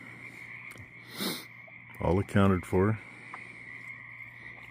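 Frogs croak outdoors on a Saturday night, a steady chorus running throughout with a high trilling band, while someone speaks briefly in the middle at close range.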